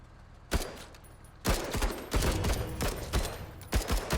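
Volleys of gunfire from soldiers in the video game Menace, sharp bursts and rapid rattling shots repeating through a steady low rumble of battle, fairly loud and continuous with no talk.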